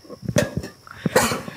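A person coughs a few times in quick, harsh bursts, close to the listener.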